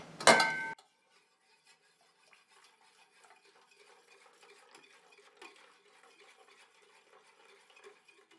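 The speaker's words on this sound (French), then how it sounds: "Je prends ma phase huileuse à laquelle je viens rajouter ma phase aqueuse tout en mélangeant" A brief loud clatter opens, then soft, continuous whisking and scraping as an oil phase and a water phase are stirred together into a conditioner emulsion, faint and close.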